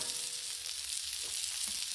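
Pork loin sizzles on a Blackstone griddle, a steady, close frying hiss with faint crackles and pops and no talk.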